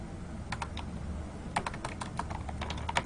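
Keys clatter on a computer keyboard as a networking command is typed, with scattered quick keystrokes and short bursts of tapping over a low background hum, close and fairly quiet.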